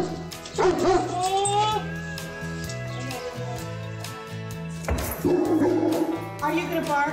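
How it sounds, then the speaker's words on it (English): A dog barks and whimpers in short yelps and whines close by, with some background music playing throughout. "Are you gonna bark?"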